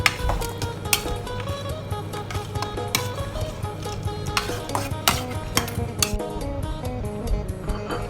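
Metal spoon stirring a Thai chicken dish with holy basil leaves in a pot, giving repeated close clinks and scrapes against the pot over steady background music.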